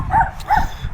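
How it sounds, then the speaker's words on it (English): A dog barks twice in a suburban Sydney neighbourhood, two short, fairly close woofs about a third of a second apart, heard on their own. "Got this dog barking."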